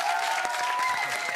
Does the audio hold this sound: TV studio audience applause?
yes